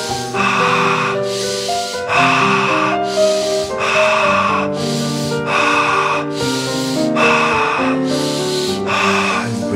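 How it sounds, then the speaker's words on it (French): Deep rhythmic breathing during a yang breathwork exercise, about nine strong inhales drawn in through the nose in a steady cycle, loud and close under a sustained musical background. "Respiration yang, on inspire, on tire ce souffle par le nez."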